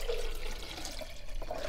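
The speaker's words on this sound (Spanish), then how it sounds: "Antes voy a agregar agua." Water poured into a blender holding soaked egg-carton pulp, a steady splashing, gurgling flow that runs continuously for under two seconds.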